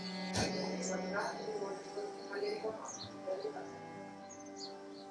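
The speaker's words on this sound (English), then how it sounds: "These birds, most probably the bulbuls, red vented bulbuls." Red-vented bulbuls calling in a backyard, a scatter of short chirps and tweets, fairly near, over a steady background hum with a brief loud knock early on.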